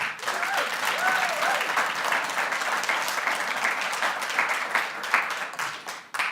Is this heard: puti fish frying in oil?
no